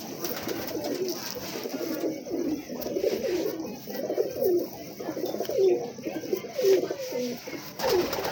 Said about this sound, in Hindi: माशाल्लाह बहुत अच्छे कबूतर हैं माशाल्लाह इनके पास ना।